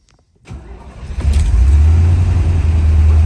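A 1972 Chevrolet Corvette LT-1 cranks briefly, then fires and settles into a loud, deep, steady idle, heard close with no talk.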